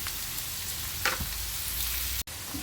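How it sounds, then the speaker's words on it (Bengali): Onions fry in a pan for a Bihari-style chicken curry, giving a close, steady sizzle with a few sharper crackles and a brief stir, without any talking. "এইবার ভালোভাবে পেঁয়াজটাকে একটু লাল লাল করে ভেজে নিতে হবে।"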